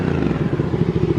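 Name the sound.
motorbike passing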